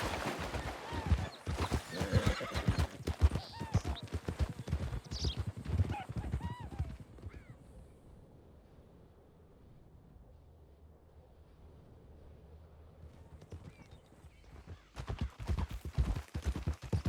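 A horse in Red Dead Redemption 2 whinnies and its hooves clop in quick rhythmic bursts, then things go quiet before the hoofbeats return near the end.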